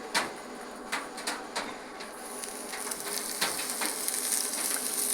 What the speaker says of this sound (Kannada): ಕಲ್ಲು ಒಗ್ಗರಣೆ, ಬೆಳ್ಳುಳ್ಳಿ ಜಪ್ಪಿ ಹಾಯ್ಕೊಂಡು